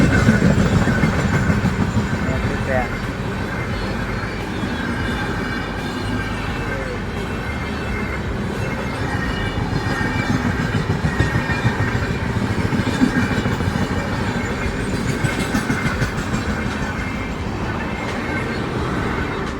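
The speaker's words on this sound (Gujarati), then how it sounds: "ટ્રેન જાય ભુજથી પાટણ" A train on the Bhuj to Patan railway line rumbles past close by, a loud continuous roar of wheels and wagons with rhythmic clatter throughout.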